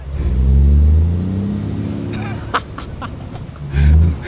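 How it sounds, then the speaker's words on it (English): Truck engine rumbling loudly while riding aboard the truck, with low droning revs that swell, ease off and swell again, plus brief clatters and rattles in between. "I'm on a truck."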